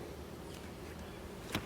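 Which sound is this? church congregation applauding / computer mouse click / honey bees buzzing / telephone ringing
honey bees buzzing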